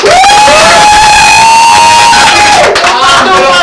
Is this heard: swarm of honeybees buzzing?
no